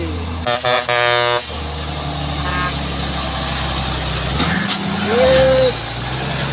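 A trailer truck sounds its air horn in a few short loud blasts, with roadside engine rumble and passing traffic noise following, plus a brief higher horn toot later.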